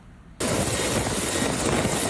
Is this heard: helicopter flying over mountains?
yes